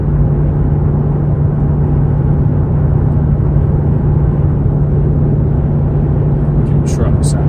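Steady low road rumble and engine drone from inside a Mustang on a drive home, with cars passing alongside on the road and no talk over it.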